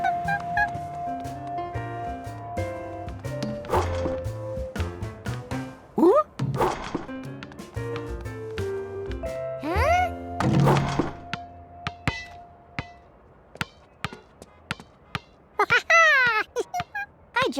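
Basketball bouncing and shooting at a hoop in a Curious George kids' cartoon: a string of sharp thunks and thuds, some in quick runs, others spaced apart, over a cartoon music bed with brief character sounds.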